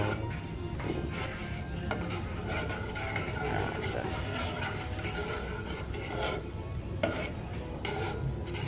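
Ground coffee stirred in water in a pot on a lit flame, a spoon scraping and rubbing steadily around the metal with occasional sharper clinks, close and continuous with no speech.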